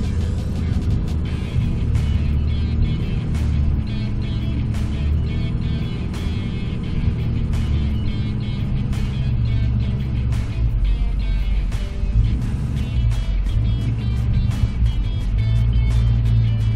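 A vehicle engine idles and pulls steadily while backing a trailer toward a garage, a loud, continuous low rumble with faint ticking on top, close throughout and without speech.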